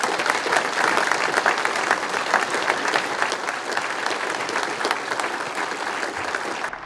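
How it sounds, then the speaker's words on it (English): A sustained round of applause from a sizable crowd, steady and loud throughout with dense overlapping claps. "let's give another round of applause to all of our service members"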